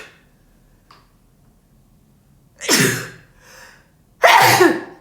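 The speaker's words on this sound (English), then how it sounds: "Sneeze." Two sharp sneezes from a person about a second and a half apart in a quiet room, close and loud, with a faint click beforehand.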